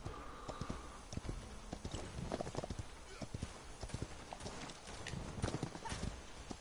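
Rhythmic clip-clop of horse hooves in the video game Paladins, a steady trotting beat of close, sharp hoof strikes with a brief whinny near the start and game effects underneath.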